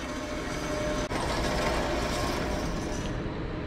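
A horizontal bandsaw runs and cuts, a dense continuous mechanical roar and rumble that holds steady throughout with one momentary dip.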